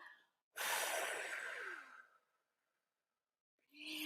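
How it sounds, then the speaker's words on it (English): A single deep, slow exhale of breath during a guided breathing exercise, loud and close, lasting about a second and a half before fading into silence, with another breath starting at the end. "And now breathe out."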